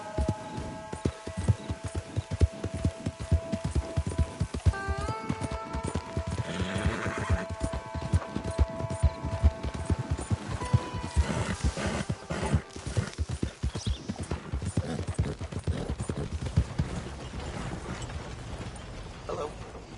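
Horse hooves pound at a gallop in Red Dead Redemption 2, a fast continuous clip-clop with a whinny and creaking tack mixed in, close and steady throughout.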